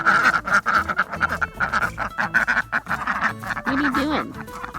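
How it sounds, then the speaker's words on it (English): Several ducks on a homestead quack repeatedly and loudly nearby, their calls overlapping with a person talking to them. "Hi, ducky duckies."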